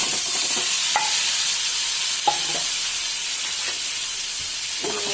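Six halved boiled eggs frying in hot oil in a pan for egg biryani, a steady close sizzle with a few sharp clinks from a utensil against the pan, no talking.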